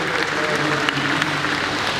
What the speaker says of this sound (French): on les encouragera avec nos applaudissements